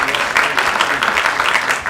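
Dense, loud audience clapping at a film screening in Dakar, a steady wash of many hands close by, with no voices over it.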